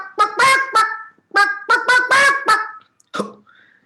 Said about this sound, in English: The chicken was there on the window.